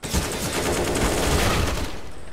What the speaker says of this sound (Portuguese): Ah, o cara atira em mim